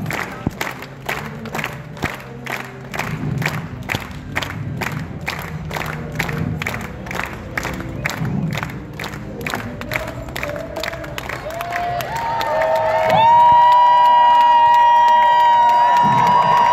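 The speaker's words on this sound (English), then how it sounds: "A slow, rhythmic clap, clap, clap, clap, clap" An outdoor crowd claps in a slow, steady rhythm, roughly two beats a second, the pace gradually quickening before giving way to loud cheering and whooping near the end; shouts and chatter mix in throughout.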